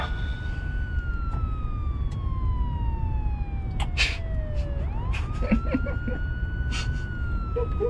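A police car siren wails loud and continuous, its pitch sliding slowly downward then rising again, with brief clanks and knocks over a steady noisy background.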